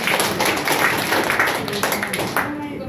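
An audience claps hard in a dense, continuous wash of hand claps that holds steady for a few seconds before thinning out, with a voice talking underneath.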